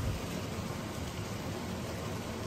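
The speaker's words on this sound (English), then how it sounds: "the rain has picked up to, just more steady" Steady rain falling during Hurricane Ian in Orlando, a continuous dense hiss with no breaks, moderately quiet and even throughout.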